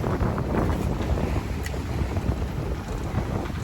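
Steady wind buffets a sailboat at sea off Wales, heading for Tenby with about 16 knots on the port beam; a loud, continuous low rumble of gusts and water rushes by close to the microphone, with no talking.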